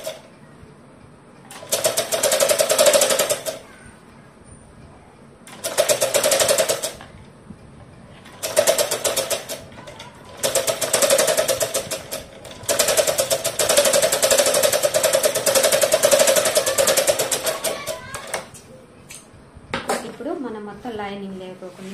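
A sewing machine stitches lace onto a long frock sewn from an old saree, running in several loud bursts of rapid mechanical whirring separated by short pauses.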